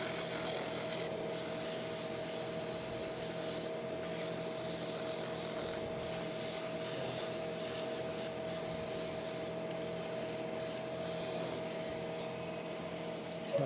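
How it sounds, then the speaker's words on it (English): Steady abrasive rubbing of 120-grit sandpaper against a wooden cup spinning on a lathe, with a constant motor hum underneath and brief dips where the paper lifts and moves along the surface. "you're only going to be sanding half of it at any one time"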